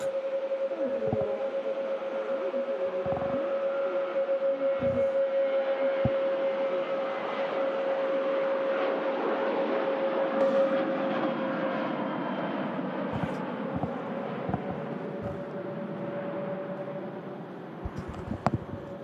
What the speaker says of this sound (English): And Ryanair just on the roll out to Cork.